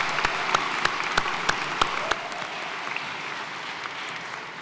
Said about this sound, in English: let's clap for that one too